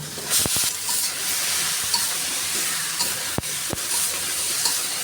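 A pan sizzles and hisses steadily as drumstick stalks, potato and bitter gourd are tossed into hot spiced oil for a prawn curry, with a few sharp clanks of a spoon against the pan, close and continuous.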